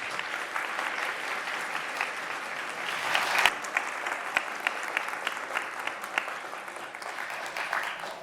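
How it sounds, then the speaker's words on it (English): A lecture audience applauds steadily, a sustained wash of clapping with a few sharper claps standing out as it continues. "please give us a big round of applause and take it away, Kelly."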